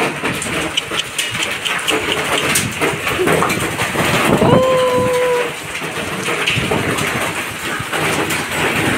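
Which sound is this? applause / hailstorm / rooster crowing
hailstorm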